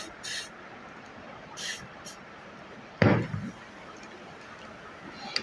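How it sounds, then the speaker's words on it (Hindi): WD-40 rust remover sprayed from a can into an opened revolver: a single short hissing burst, close and fairly loud, with faint background noise before and after. "WD-40 मारे"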